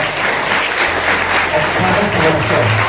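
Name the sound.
students applauding at retirement ceremony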